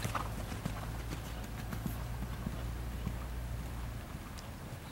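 Horses' hooves clip-clop over low cavaletti poles on a diagonal during a jumping clinic warm-up, with light, scattered hoof beats over a steady low rumble and wind.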